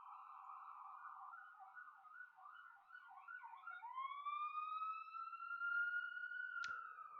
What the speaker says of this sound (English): That is an ambulance outside.